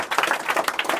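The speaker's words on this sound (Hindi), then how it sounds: "मारो जोरदार ताली इसको" Brisk clapping from a class of students, dense overlapping claps in a quick burst, loud and close.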